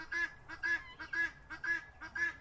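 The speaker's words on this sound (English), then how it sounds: "guinea fowl" A guinea fowl calls in a run of five harsh, honking cries at an even, rapid rhythm, close and clear with no talk.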